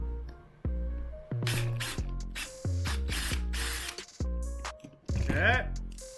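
Bursts of a power drill whirring in short runs, stopping and starting, with harmonic motor whine and people talking over it.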